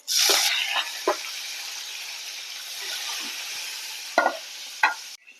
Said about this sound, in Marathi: आता इथे मी कढीपत्त्याची फोडणी घालून घेणार आहे.